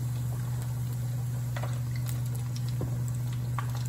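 Chicken pieces frying in hot oil for Southern fried chicken, a steady continuous bubbling sizzle with faint crackles and pops throughout, heard alone without talk.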